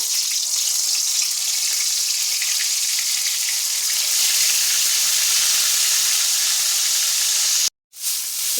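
Marinated chicken frying in hot oil in a wok, a loud, dense, steady sizzle held close throughout, cutting out briefly near the end before resuming.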